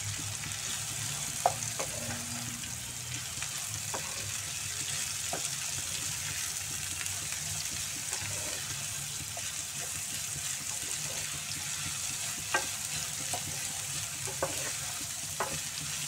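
Carrots and capsicum sizzle steadily in a pan for Maggi Hakka noodles, with a continuous frying hiss and occasional soft scrapes and clicks of stirring throughout.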